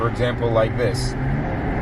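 A BMW B58 turbocharged engine's blow-off valve vents a short breathy hiss as the throttle is lifted, a brief burst over a running engine while a person talks over it.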